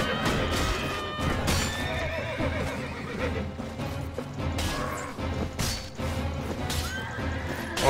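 Horses neigh and whinny amid clattering hooves and battle crashes in the video game Mount and Blade: Warband with the Floris mod, several loud whinnies rising over dense, chaotic combat noise.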